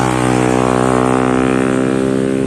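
A motorcycle engine is test-run nearby, a loud, dense buzzing drone that holds steady throughout the short stretch.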